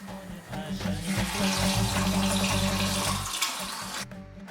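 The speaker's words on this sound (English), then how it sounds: "followed by plenty of water to cover the chicken" Water pours steadily into a cooking pot over chicken for kabsa, a continuous close rushing splash that cuts off abruptly near the end, with no speech.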